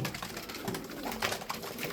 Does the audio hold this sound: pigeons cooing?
yes